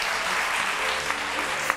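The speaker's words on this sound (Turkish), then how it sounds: "Alkışlar Deniz Kılıç'a." Studio audience applause on a Turkish daytime TV talk show, a steady dense wash of clapping held at an even level for a couple of seconds with no voices over it.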